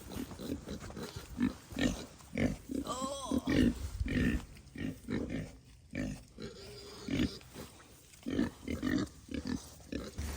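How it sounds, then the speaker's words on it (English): Pigs grunt and snort near a fence on a farm in cold weather, a close, busy run of deep grunts and squeals in irregular bursts, with people talking over them. "Might have some pigs escaping."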